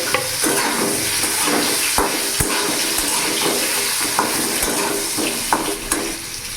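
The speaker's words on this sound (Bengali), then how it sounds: "ওই তেলের মধ্যে এখানে কেটে রাখা আলুগুলো আমি ভেজে নেব" Lightly steamed potato pieces frying in oil in a pan, a loud continuous sizzle with sharp crackles and occasional stirring knocks, up close and without talk.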